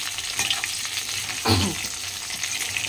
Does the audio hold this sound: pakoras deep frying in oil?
yes